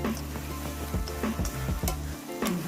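Glass noodles and stir-fried ingredients are tossed together in a hot pan, a close, steady sizzle broken by repeated scraping strokes of the spatula in an uneven rhythm, no voices.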